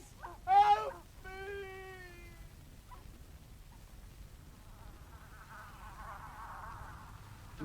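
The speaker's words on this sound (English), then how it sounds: "Mosquitoes." Faint, thin buzzing of mosquitoes drifts through the latter half of a radio drama scene, following a short yowl and a tonal voice-like cry near the start.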